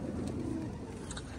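Young pigeons give a soft, low cooing call at close range in a loft, briefly, with a faint higher chirp near the end.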